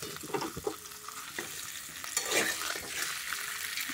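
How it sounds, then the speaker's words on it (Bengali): Pitha filled with coconut and potato frying in oil, a quiet bubbling sizzle with occasional clinks and stirring scrapes of a utensil, close and without speech. "এগুলো হচ্ছে নারকেলের পুরের পিঠে, আর এগুলো দেখো আলুর পুরের পিঠে, সেগুলো দিয়েছে। এগুলো এখন ভাজছি ভালো করে।"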